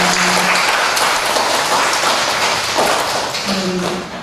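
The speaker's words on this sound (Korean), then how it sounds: "축하 박수 드리겠습니다." Church congregation applauding to congratulate a family on a prize at a Sunday service, a dense steady clatter of many hands filling the room and tapering slightly at the end.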